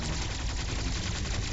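Rapid burst of gunfire in Metroid Dread, a dense rattling stream of shots at constant loudness with no pauses and no talking.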